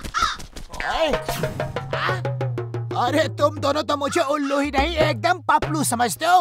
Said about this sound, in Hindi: कौवे को बतख बता रहे हो।